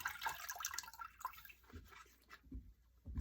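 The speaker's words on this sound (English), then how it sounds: "Squeeze out the water." Water dripping and trickling from squeezed shibori-dyed fabric, quiet close splashes and drips that taper into a few isolated drops.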